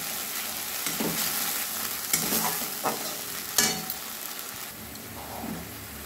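Mustard-poppy paste sautéing in a pan over a low gas flame, gentle continuous sizzle punctuated by several scraping stirs of a spatula, close and moderately quiet, no talking.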